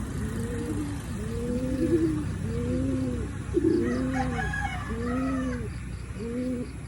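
Golden Phoenix Occidental line gamefowl hen among other chickens, with repeated clucks and calls in a steady rhythm, several overlapping birds nearby and some crowing mixed in.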